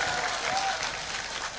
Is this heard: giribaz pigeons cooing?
no